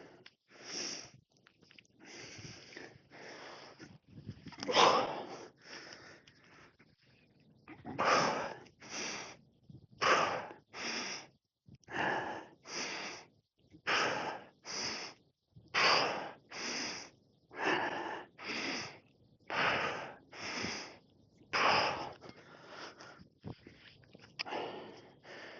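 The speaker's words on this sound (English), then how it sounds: "I can feel my heart rate, breathing elevating" Heavy breathing follows a set of goblet squats: a long run of loud, rhythmic inhales and exhales, close to the mic, quickening into regular, forceful bursts with brief pauses between.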